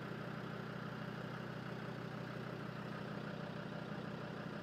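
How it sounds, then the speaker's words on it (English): A Land Rover Defender engine idles steadily with a constant low hum and rumble, heard faintly and evenly throughout, with no voices. "I just put the engine on and they're getting warm already."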